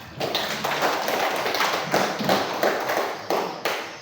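Students in a classroom clap together in rhythmic bursts, close and fairly loud, several rounds in quick succession.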